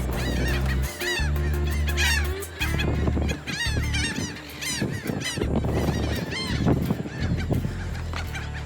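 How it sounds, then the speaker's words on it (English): Seabirds squawk and honk in a dense, overlapping chorus near their nesting ground on Grenada Island, loud and continuous with many birds calling at once and no talk. "With this many birds all getting upset."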